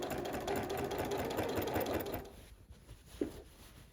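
Sewing machine stitching through a quilt, running steadily and fairly loud for about two seconds, then stopping, with a small click or knock afterward.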